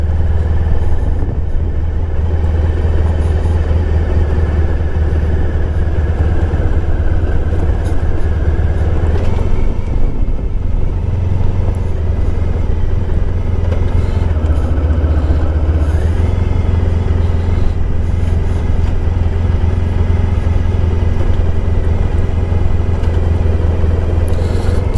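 A 1994 Honda ST1100 coasting in third gear with no throttle, a steady low engine drone with road and wind rumble, close and continuous.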